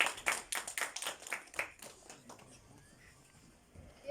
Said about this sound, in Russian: Давайте поддержим аплодисментами наших.